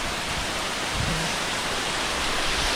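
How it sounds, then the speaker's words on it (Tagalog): Heavy rain pours down at night during net fishing, a dense, steady roar of water with no breaks, loud and close, with no talk. "Grabe ang lakas ng ulan."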